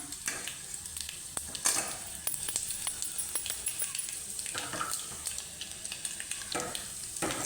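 Garlic, mustard seeds and curry leaves fry in hot oil for a tomato saar, a close, busy sizzle with scattered pops and stirring scrapes, continuing steadily.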